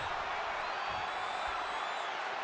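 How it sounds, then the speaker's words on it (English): Virtual arena crowd in the WWE 2K20 wrestling video game, a steady, dense roar of cheering spectators filling the whole short stretch without a break. "by the sound of this crowd tonight, it's easy"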